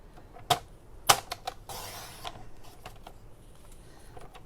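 Basic white cardstock being trimmed on a paper cutter: two sharp clicks followed by a brief sliding cut, then faint light handling noises, close and quiet with no talking.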